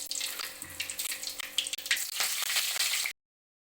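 Steady, close crackling sizzle of mustard seeds popping in hot oil, which cuts off abruptly into silence.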